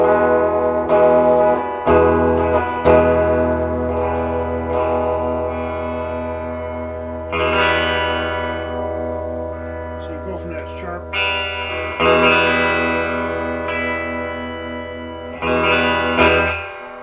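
A clean electric guitar, a vintage Japanese gold-top LP-style clone with its tone knob backed down, rings out sustained chords and picked notes drenched in reverb, steady and fairly loud throughout.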